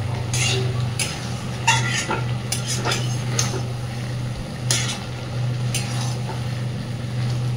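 Chicken keema and potatoes stirred and fried together in a pan, with a steady low sizzle underneath and repeated scraping, clinking strokes of a utensil against the pan at an irregular rhythm.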